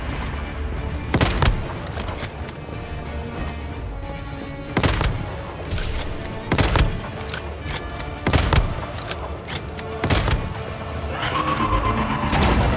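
Machine gun fire in the video game Once Human crackles in repeated loud bursts, broken up by short pauses, with rapid shots clustering near the end.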